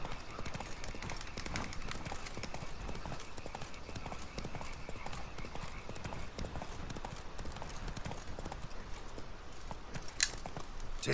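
Hooves of the horse Roach clip-clopping in The Witcher 3: Blood & Wine, a steady rapid trotting rhythm of hoof strikes close by, with a brief bright clink near the end.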